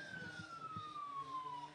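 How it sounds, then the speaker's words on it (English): An ambulance siren sounds faintly in the distance at a chilean surf contest, its single tone sliding slowly downward under low background noise and a few soft low thumps. "Well, that's an ambulance"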